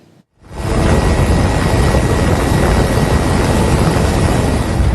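An Indonesian Air Force EC-725 H225M Caracal military helicopter makes a limited landing during flood relief in Aceh, its rotor and engine roaring loud and steady, a dense continuous wash of noise close by throughout.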